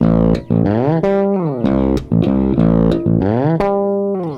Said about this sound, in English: If I did the same bass line all on the bridge pickup, it's going to sound like this.